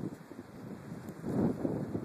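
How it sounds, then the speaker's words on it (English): Low, gusty wind buffets the microphone in cold, sleeting April weather in the Adirondacks, rising into a stronger rumbling gust toward the end, with no talking. "it's pretty darn cold and windy and sleeting for April 16th"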